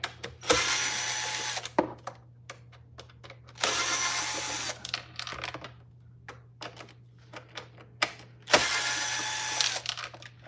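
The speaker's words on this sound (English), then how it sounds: "Let's take out the screws." A power driver backs screws out of a vacuum cleaner during a repair. It makes three long, steady whirring bursts separated by clicks and handling noises, all close by and with no talk.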